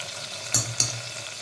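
Ajwain seeds dropped into hot oil for guvar curry, a soft steady sizzle with two sharp crackling bursts close together, brief and close.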